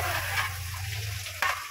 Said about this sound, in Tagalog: Hinihintay pa pong matunaw ang margarine bago ilagay ang sibuyas